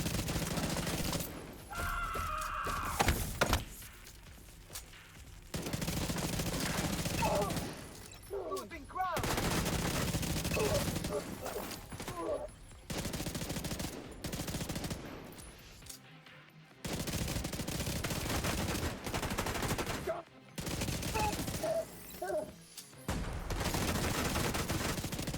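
Repeated long bursts of automatic gunfire in a shooter game, loud and sustained, broken by short silent gaps and quieter stretches, with faint talking in between.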